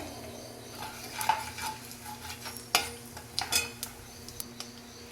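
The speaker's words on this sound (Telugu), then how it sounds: "ఇప్పుడు మనం ఇదే ఆయిల్లో ఒక బిర్యానీ ఆకు, ఒక కొంచెంగా ఒక స్పూన్ వరకు సహజీరా, 2 లవంగాలు, ఒక ఇలాచి అండి వేసేసుకోవాలి మనము." Whole spices, a bay leaf, shahi jeera, cloves and cardamom, are dropped into hot oil and stirred, giving a soft sizzle with light clinks and scrapes of a spoon against the pan, quiet and close, with no voices.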